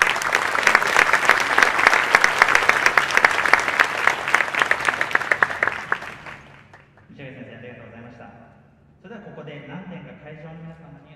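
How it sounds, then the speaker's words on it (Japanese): Dense, loud audience applause fills an indoor hall at a marching band championship in a gymnasium for about six seconds, then stops abruptly and is followed by quieter music-like sound. "拍手をいっぱいこの中で響かせていただきたいと思いますので"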